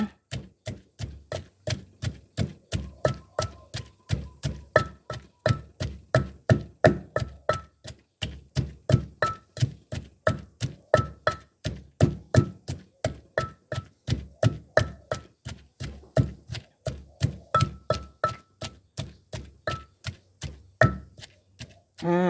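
Food pounded in a mortar for a bamboo-shoot and yanang-leaf curry, dozens of close, steady rhythmic thuds at roughly two to three strikes per second, alone throughout.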